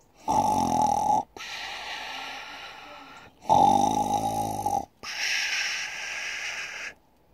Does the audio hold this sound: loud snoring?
yes